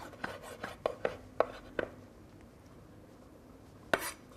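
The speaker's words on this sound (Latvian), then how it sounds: "Burtiski sakapājam viņu tā." A knife chops peeled boiled eggs on a board, giving a quick run of five or six crisp taps, then a pause and one final louder chop, close up with no talking.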